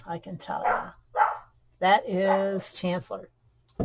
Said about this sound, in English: if you hear dog barking, told you so